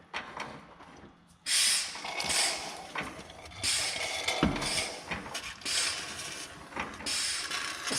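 A hand-operated suction pump draws coolant out of a car motor, giving bursts of hissing, gurgling suction broken by short mechanical clicks and creaks of the pump, close and fairly quiet.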